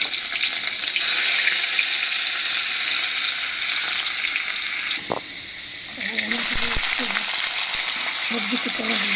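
A dried red chili and chopped ginger fry in hot oil, a loud, continuous hissing sizzle close by that dips briefly midway before surging back.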